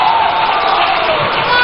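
Rally crowd at a party manifesto launch in Winneba cheering and applauding for a dignitary, a dense loud wash of clapping and voices without pause, with a faint tone sliding underneath.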